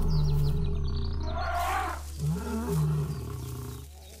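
A lioness roars loudly and close at hand in a wild setting, with a long sustained roar followed by a second shorter, throaty roar, and no voices in the background.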